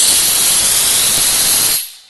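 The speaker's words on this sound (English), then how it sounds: "you get kind of bursts of steam" A DB-Tech pressurized steam cleaner releasing steam, a loud, close, steady hiss that lasts under two seconds and then cuts off sharply.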